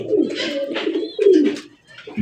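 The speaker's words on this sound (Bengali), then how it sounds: "এখানে রয়েছে চমৎকার একটা ঝর্ণা সেটিন কবুতর" Satin pigeons cooing nearby in soft throaty bursts, several low rolling calls in quick succession.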